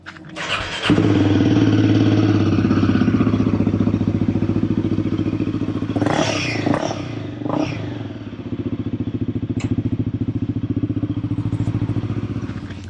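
A Royal Enfield Himalayan 450 motorcycle fitted with an AEW muffler starts up and settles into a loud, steady idle close by, with a brief revving rise in the middle.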